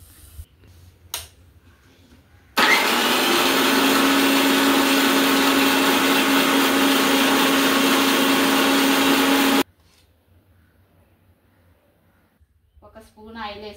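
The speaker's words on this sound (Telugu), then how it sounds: "పాలకూర మగ్గింది, చల్లారిన తర్వాత మిక్సీ పట్టాలి" A kitchen mixer grinder blending cooled, cooked spinach whirs loudly and steadily for about seven seconds with a sharp start and stop. Quieter handling noise comes before it, and a voice follows.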